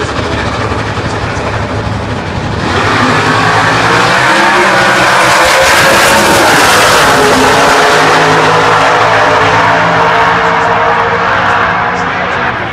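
Drag racing cars in the factory Superstock C final at the Chevrolet Performance U.S. Nationals roar loudly and continuously, the engine noise swelling after a few seconds and holding at full volume.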